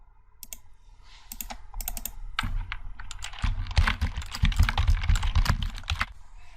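Keys clatter on a computer keyboard as a Jupyter notebook title is typed, with quick irregular bursts of close, crisp clicks that grow busier and denser toward the end, with no talking.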